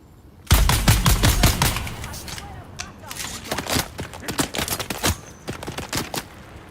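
Rapid gunfire in Dune Awakening crackles in close, loud bursts, starting abruptly and then continuing as scattered volleys and single shots that fade somewhat toward the end.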